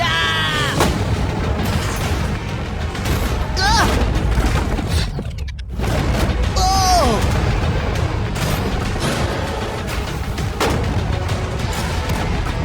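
Repeated heavy gunfire booms and cracks as shots punch holes in a shipping container, dense and loud throughout. Excited voices shout and talk over the shooting.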